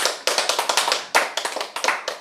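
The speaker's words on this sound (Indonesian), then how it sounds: "Tepuk tangan dong buat Tuhan Yesus." Church congregation clapping for Jesus in a quick, even rhythm, sharp claps close by with a short break partway through.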